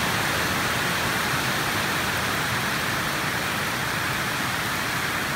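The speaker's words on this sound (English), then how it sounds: "The rain's thundering pretty hard on the roof." Heavy rain drums steadily on a farm building roof, a continuous dense hiss with no breaks, loud and even throughout with no voices.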